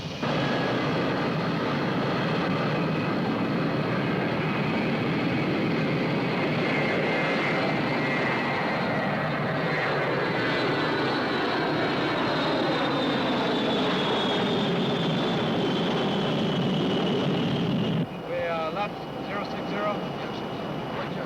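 An airliner's engines roar loudly and steadily during the climb after takeoff, with a high whine gliding slowly downward before the sound abruptly drops and a lower rumble carries on.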